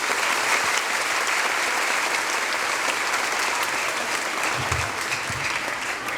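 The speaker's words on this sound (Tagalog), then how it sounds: "siyempre siguro ang pinakamalakas na palakpak ay ibigay natin sa ating principal, Crescencia Rosales." An audience at an elementary school graduation applauds for the school principal, steady, dense clapping from a large crowd that holds for several seconds.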